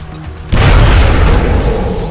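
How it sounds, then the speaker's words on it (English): A grenade goes off in the video game XCOM: Enemy Unknown: after a brief quiet moment, a single loud boom hits and rolls into a sustained heavy rumble that fades only slightly. "Can we throw a grenade?"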